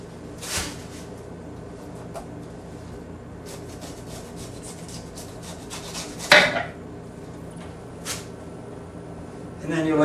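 A knife slices down through a pineapple on a board, giving scattered scraping and rubbing strokes with a sharp crunchy cut near the middle, close and clear.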